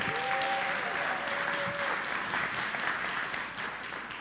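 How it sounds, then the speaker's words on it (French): Steady applause from a church congregation, dense and continuous for several seconds before easing slightly toward the end, with a brief whistle-like tone at the start. "Je veux qu'on les applaudisse ensemble."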